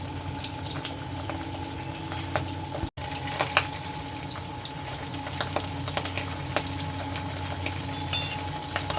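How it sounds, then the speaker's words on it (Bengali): Meatballs frying in hot oil on medium heat, giving a steady soft sizzle with scattered crackles and pops throughout, heard alone and fairly quiet. "আমি মিট বলগুলো দিয়ে দিচ্ছি দিয়ে মিডিয়াম হিটে ভেজে নেব"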